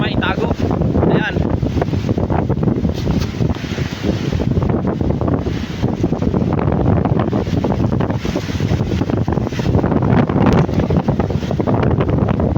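Strong wind gusting over a shoreline where a boat is being beached, roaring steadily and loudly with buffeting against the microphone, mixed with water and surf noise, and some voices faintly under it.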